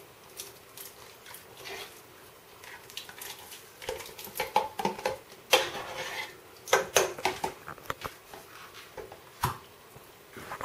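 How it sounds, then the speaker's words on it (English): Cannellini beans going into a soup pot of escarole and bean soup, a scatter of clinks, taps and wet patter against metal, irregular and fairly close, with no talk. "I'm now going to add the cannellini beans."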